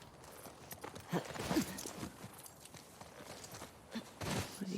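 A horse walks in the video game The Last of Us Part II, a steady series of soft hoof clip-clops, with a brief spoken word partway through.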